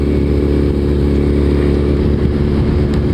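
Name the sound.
Suzuki Hayabusa motorcycle riding at 25 mph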